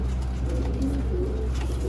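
A Sialkoti pigeon cooing close by, soft repeated low throaty coos over a steady background hum, with no talking.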